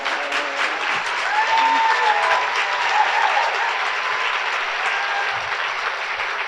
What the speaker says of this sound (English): would you please stand on your feet and give her a round of applause?